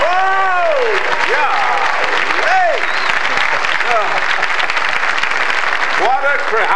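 Live studio audience applause and cheering at a country comedy show, sustained and loud throughout, with a voice talking over the clapping.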